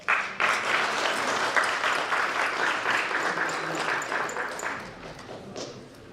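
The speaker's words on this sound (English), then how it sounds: "I think our two speakers deserve a round of applause" Sustained audience applause at a Ghana independence anniversary reception in Moscow, a room full of clapping hands that starts abruptly, holds steady, then thins out and fades toward the end.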